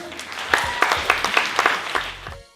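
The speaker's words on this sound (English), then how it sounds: "Round of applause for Mike." Audience applause at a vegan festival, a burst of scattered, uneven claps with distinct individual hand strikes that stops abruptly.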